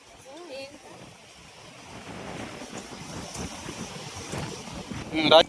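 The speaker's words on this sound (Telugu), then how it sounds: "గాలి మాత్రం తీవ్రంగా వేస్తూ ఉంది" Strong wind at an outdoor campsite gusting against the microphone, a rough broadband rush that builds toward the end, with a brief voice near the start.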